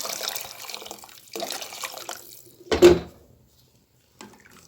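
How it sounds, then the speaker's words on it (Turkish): Water pours in steady bursts into a pot of lentil soup, a close rushing splash that stops and restarts, ending in a short final splash and then near silence. "Biraz daha su katalım."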